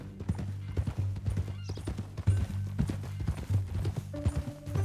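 Horse hooves clip-clopping in a steady walking rhythm in Red Dead Redemption 2, close and clear over a low ambient hum, with a faint snort partway through.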